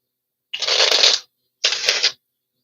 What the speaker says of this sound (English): I'm going to do 3 shuffles of the riffle shuffle.